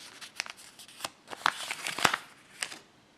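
An Australian polymer five-dollar banknote being folded and handled: a series of sharp, close, crisp crinkles and snaps, irregularly spaced and brief, in an otherwise quiet room.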